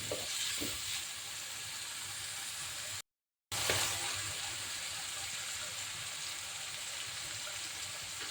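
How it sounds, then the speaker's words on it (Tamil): Onion and tomato sautéing in hot oil with mustard seeds, cumin and fenugreek for a drumstick sambar, a steady close sizzle and crackle with faint stirring, briefly cut out partway through. "வெங்காயம், தக்காளி போட்டிருக்கோம். நல்லா வதக்க போகிறோம்."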